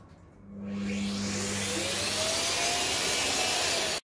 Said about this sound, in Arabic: مروان شغل المكنسه لو سمحت هشفط بقى الميه انا واسيبها تنشف بقى مع نفسها